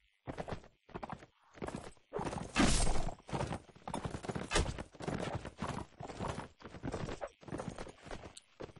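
Horse hooves clip-clop in the Mount & Blade video game on the open steppe, a run of loud, rhythmic bursts of galloping steps with occasional whinnies and combat noise mixed in.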